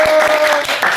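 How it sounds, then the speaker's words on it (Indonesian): A small audience at an elementary school podcast session gives a brief burst of applause, a close, fairly loud patter of clapping lasting about a second. "Tepuk tangan"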